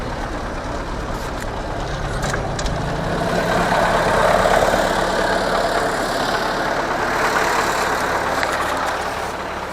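A restyled YuMZ tractor works a field pulling a PLN 3-35 plough, its diesel engine droning steadily and fairly close, swelling slightly mid-way under a constant mechanical rumble with no voices.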